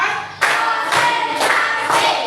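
Children in a classroom clap together in a counting game, producing four sharp, ringing group claps in a quick, even rhythm.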